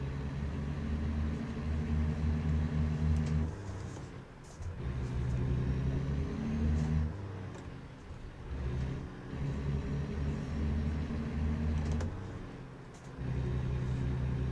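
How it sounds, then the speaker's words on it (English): A diesel truck engine in a driving video game played with a Logitech G29 wheel and shifter, a steady low drone that revs and drops between gear changes, with someone talking over it. "it's a diesel truck, release the throttle"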